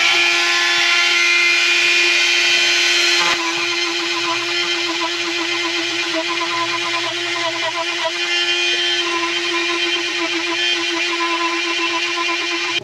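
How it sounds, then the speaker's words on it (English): A Dremel grinds rubber around a tire patch area with a loud, continuous high-pitched whine that drops slightly in tone a few seconds in, then runs on without pause. "we're going to Dremel all the way around that patch so it's kind of nice and smooth like this here"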